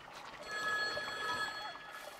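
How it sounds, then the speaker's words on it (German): Telephone ringing in the video game The Wild at Heart, a steady electronic ring with a shrill tone, fairly faint against a soft ambient background. "Sehr gut, aber wo klingelt hier das Telefon?"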